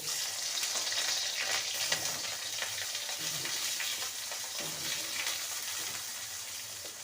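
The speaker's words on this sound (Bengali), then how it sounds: "বড়ি ভাজার পর আমি প্রথমে সবজির মধ্যে বেগুনটাকে ভেজে তুলে নেব" Brinjal pieces fry in mustard oil in a kadai, a steady, fairly soft crackling sizzle running throughout with faint stirring.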